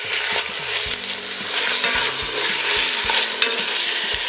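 Chicken seasoned with turmeric, cayenne pepper, paprika and salt fries in a hot pan, giving a steady close sizzle broken by repeated scraping stir strokes of a utensil against the pan.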